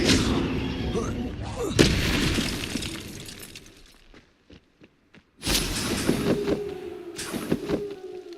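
A Confringo spell blast in the Hogwarts Legacy video game: a sharp explosive crack with shattering debris, a near-silent pause, then another loud burst of crashing and rumbling effects.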